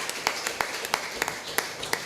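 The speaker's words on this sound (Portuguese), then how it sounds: "Você pode aplaudir ao Senhor." Congregation clapping in a church service, a steady rhythmic beat of about three claps per second, close and fairly loud, with faint voices underneath.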